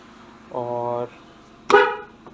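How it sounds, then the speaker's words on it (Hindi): Horn of a 2021 Prince Pearl vehicle sounding twice, a steady half-second honk followed by a sharper, louder short toot, close by with no talk over it. "ये हॉर्न है इसका"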